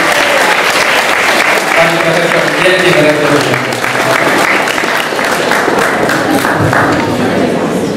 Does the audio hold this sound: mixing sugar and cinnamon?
no